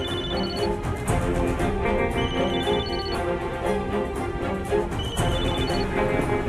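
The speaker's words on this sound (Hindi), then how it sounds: "फोन उठाओ ज़ैनब।" Telephone ringing in a dramatic TV scene, a repeating electronic ring tone over a dense, loud music-and-noise bed throughout.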